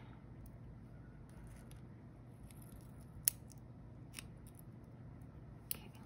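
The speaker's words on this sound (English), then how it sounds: "I will definitely have to cut these into like tiny strips" Scissors cut material into tiny strips, giving a few faint, sparse snips and clicks over a low steady background hum, with no talking.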